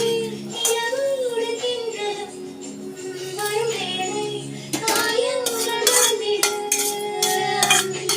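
Roasted pirandai (Cissus quadrangularis) is shifted from a pan onto a plate with sharp metallic clinks and scrapes, busier in the second half, under continuous talking.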